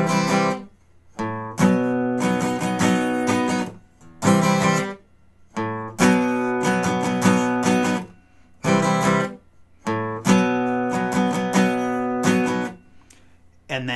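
Acoustic guitar strumming the breakdown of a song, played in a lesson with repeated chord phrases separated by brief pauses; clear, close and loud, no voice over it.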